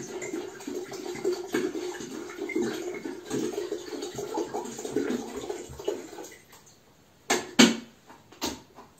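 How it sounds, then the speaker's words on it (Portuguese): About a liter of water is poured into a pot to be brought to a boil: a steady splashing rush that runs for roughly six seconds, then stops, followed by a few short clanks and splashes. "Então coloque 1 litro de água para ferver"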